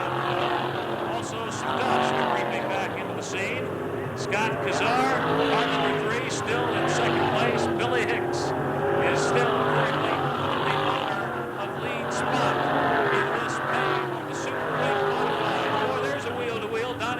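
USAC midgets and winged modified race cars circle Raven Raceway in 1987, a loud, continuous engine roar with shifting pitch heard close, while a commentator talks over it throughout.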